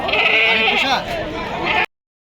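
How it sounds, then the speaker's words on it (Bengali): A domestic goat at a busy livestock market bleats loudly and close, a sustained wavering cry lasting under two seconds and ending abruptly. "বাড়ির পোষা ছাগল"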